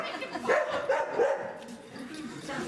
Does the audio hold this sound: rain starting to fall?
no